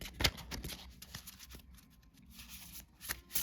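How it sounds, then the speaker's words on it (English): A Celtic Spirit oracle card deck is overhand shuffled by hand, giving a close series of quick papery riffles and slaps that come in uneven bursts. "I'm actually going to overhand shuffle"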